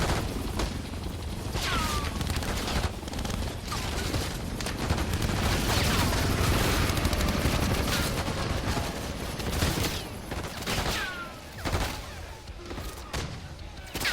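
Gunfire from a Black Ops 6 campaign battle, dense bursts and thumping shots rolling almost continuously, with brief dips, loud and close throughout.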